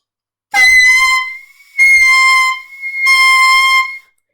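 Three sustained reedy clarinet notes from a beginner, each held about a second, with a bright buzzy tone and short gaps between them.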